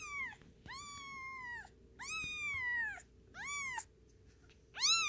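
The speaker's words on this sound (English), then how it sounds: "Kitten rage." An agitated kitten gives four drawn-out, wavering meows in succession, loud and close, each sliding in pitch with short pauses between cries.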